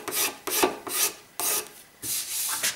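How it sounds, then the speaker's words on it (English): A cabinet scraper drawn across a wooden surface held in bench dogs, making four raspy strokes of about half a second each, separated by short gaps. The strokes are close and fairly loud, with no voices. "So I'm just quickly scraping the entire surface."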